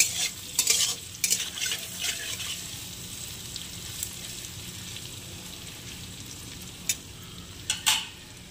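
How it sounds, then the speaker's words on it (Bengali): Paneer cubes seasoned with salt and turmeric sizzle steadily in a pan, with a few sharp scraping stirs near the start and two more close to the end. "এবারে ভেজে নেব একটু লাল করে।"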